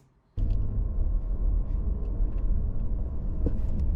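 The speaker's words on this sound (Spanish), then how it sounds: "Y el sonido del motor." The W12 engine of a Bentley limousine cuts in abruptly, then settles into a steady, smooth low rumble that holds evenly at close range.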